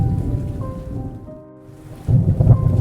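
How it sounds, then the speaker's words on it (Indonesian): Heavy rain pours down while thunder rumbles low, easing briefly before the downpour surges back loudly. "Robinson belum pernah mengalami badai sehebat itu."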